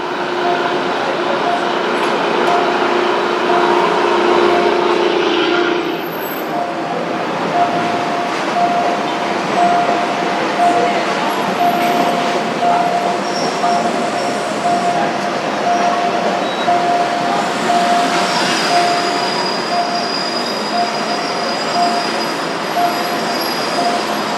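Train passing a busy road level crossing at Asoke-Din Daeng in Bangkok, with rumbling wheels and high squealing over a long, loud, continuous pass. A faint tone sounds throughout, and a voice talks briefly.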